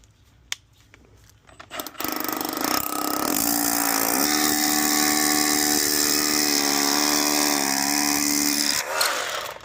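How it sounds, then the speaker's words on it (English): A power drill with a 3/8 masonry bit bores holes into a wall during an HVAC install, a loud whining grind that starts after a few light taps, holds steady for several seconds, then stops. "marked out holes using a 3/8 masonry bit. Let's drill out some holes here"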